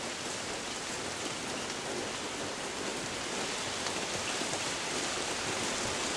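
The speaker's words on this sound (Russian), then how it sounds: "как моросит дождь" Light evening drizzle falls outside a window in late May, a soft, even hiss of rain heard steadily throughout, faint and diffuse, with no voices.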